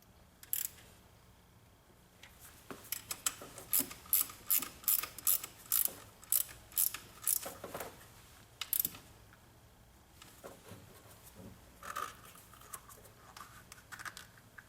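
Motor cable fasteners get snugged down on a VW transaxle, a run of quick, close ratcheting clicks in short bursts with small metallic handling sounds between them.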